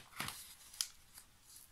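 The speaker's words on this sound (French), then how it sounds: "Les ciseaux de Craftelier" A few quiet, crisp snips from Craftelier scissors cutting tape off a jar, close and sparse, in an otherwise hushed room.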